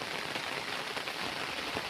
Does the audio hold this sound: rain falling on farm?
yes